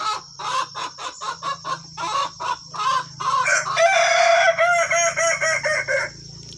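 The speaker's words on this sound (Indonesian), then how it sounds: "Berkokok lagi." A yellow kukuak balenggek rooster crows loud and close, starting with a run of about a dozen short rhythmic clucking bursts that build into a long, sustained multi-part crow.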